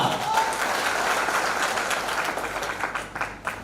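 Audience applause at a Mumbai community organisation event, a dense steady wash of many hands clapping that holds for several seconds and begins to thin near the end.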